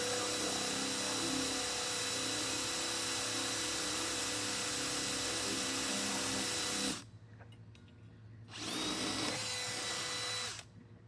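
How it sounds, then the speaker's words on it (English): A power drill bores a hole in the base of a cemetery statue, running as a loud, steady whine for about seven seconds. It stops briefly, then gives a second short burst. "we're going to first start by drilling a hole that'll fit this rod into the base"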